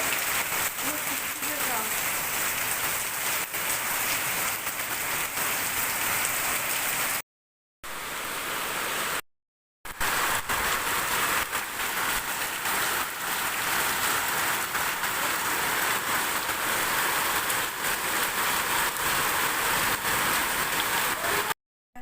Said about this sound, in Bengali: তো যা বৃষ্টি হচ্ছে